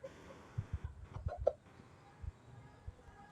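A labuyo jungle fowl decoy gives a few quiet, short clucks in a brief cluster, faint and close, against a soft outdoor background.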